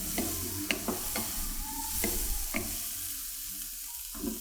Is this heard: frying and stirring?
yes